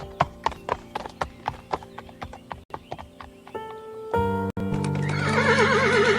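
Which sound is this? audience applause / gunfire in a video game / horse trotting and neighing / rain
horse trotting and neighing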